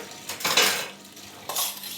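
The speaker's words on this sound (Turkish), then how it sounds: "Elde yıkama daha temiz gibi geliyor bunu." Dishes from an evening meal are washed by hand in a home kitchen, with cutlery and plates clinking and scraping in two close bursts of clatter under running water, with no voices.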